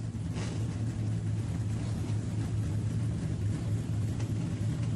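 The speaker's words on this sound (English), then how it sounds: "Hear the sound of the engines firing." A dense, continuous engine roar with a deep rumbling drone, loud and steady throughout, as several race car engines start together at night at New Smyrna Speedway.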